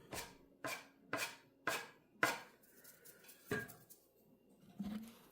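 A bench scraper cuts through ricotta gnocchi dough on a work surface, making five quick, evenly spaced knocks followed by two slower, softer chops, crisp and close in a quiet room.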